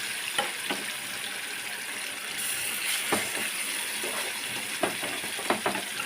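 Chicken fries in oil in an open, uncovered pan, a steady dense sizzle running throughout with a few light clicks and scrapes of a utensil against the pan.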